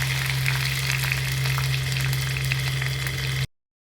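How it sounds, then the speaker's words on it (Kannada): Garlic and curry leaves sputter in hot tempering oil, a dense, steady sizzle with crackling pops and a constant low hum beneath, ending abruptly. "ಸ್ವಲ್ಪ ಫ್ರೈ ಮಾಡ್ಕೊಂಬಿಡಿ."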